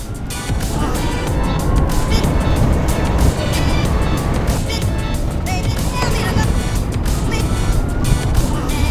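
A Tesla electric car accelerates hard, with a steady, loud rush of tyre and wind noise from inside the cabin and no engine note.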